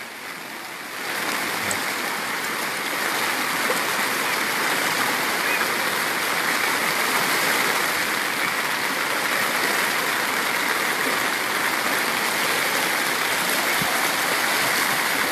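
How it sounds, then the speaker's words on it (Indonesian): Floodwater from a flash flood after overnight rain in Moilong, Banggai, Central Sulawesi roars continuously, a loud, dense, steady rushing that holds for the whole stretch with no letup. "Jadi hujan yang mengguyur sejak semalam ini mengakibatkan banjir bandang."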